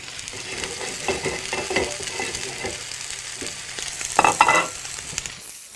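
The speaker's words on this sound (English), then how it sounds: "So what we're going to do is seal the steaks, caramelize them, seal them on the plate." Sirloin steaks searing in a very hot pan, a steady crackling sizzle with bursts of louder spitting and stirring clatter near the end, close up with no talk.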